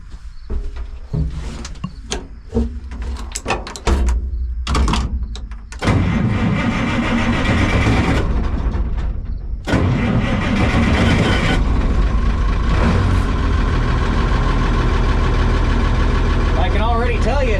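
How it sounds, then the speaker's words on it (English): An Oliver 7300 tractor engine cranks in short bursts, catches and settles into a loud, steady diesel idle up close, with brief talk over the early cranking. "I'm gonna fire it up real quick"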